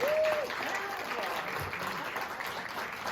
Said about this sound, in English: Give yourself a nice round of applause for coming out to the beautiful Beechwood Hotel.